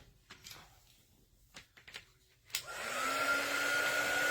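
A hair dryer clicks on after a few soft handling knocks and taps, then blows in a loud, steady whir to dry paint on a small carrot nose of a snowman door hanger.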